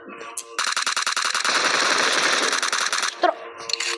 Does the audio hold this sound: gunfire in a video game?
yes